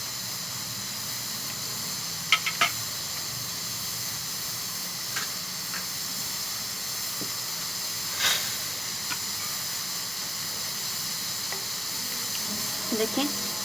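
Ghee warming in a pan for shami kabab gives a steady, soft sizzling hiss throughout, with a few faint clinks of utensils now and then, close and even.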